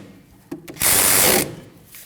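A ratchet tightens a 14mm brake caliper bolt on the rear of a 2003-2008 Subaru Forester, giving a couple of soft clicks and then one loud, fast run of ratcheting close by that lasts under a second.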